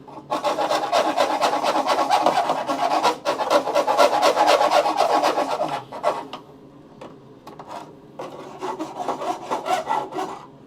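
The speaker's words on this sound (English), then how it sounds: "Let me just file down the edges, too." A hand file rasps along the edges of a car's repaired metal floor in quick, steady back-and-forth strokes, loud and close, pausing briefly before resuming at a slightly softer level; nobody speaks.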